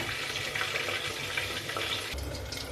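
Pabda fish fry in oil inside a covered pan over a high flame, making a steady, close sizzling hiss with faint crackles throughout and no talking.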